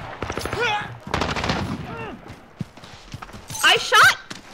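Gunfire from Call of Duty: Modern Warfare comes in short bursts and single pops mixed with excited talking, with a louder close volley of shots near the end.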